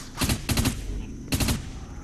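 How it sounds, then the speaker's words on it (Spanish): Gunfire in the shooter game Dust 514 comes as three short bursts of rapid automatic shots, loud and close, separated by brief gaps over a low background hum. "de ahí abajo me está disparando, tío"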